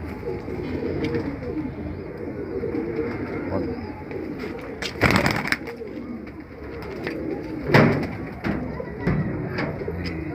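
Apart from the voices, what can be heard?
pigeons cooing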